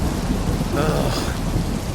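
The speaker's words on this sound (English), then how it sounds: "It's just raining so much." Heavy rain pours steadily in a video game, with a low rolling rumble of thunder under the dense hiss. Nobody speaks.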